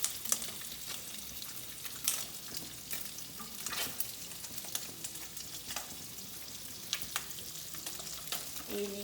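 Minced garlic and thyme sizzle in a pan with octopus, a soft continuous frying crackle broken by scattered sharper pops and stirring scrapes, fairly quiet and close, with no talking.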